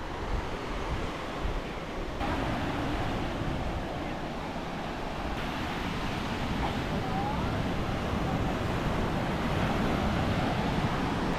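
Wind and surf at a popular sunset beach near Rawai, Phuket, heard as a constant broadband roar of breaking waves blended with gusty wind buffeting the microphone, steady and unbroken from start to finish.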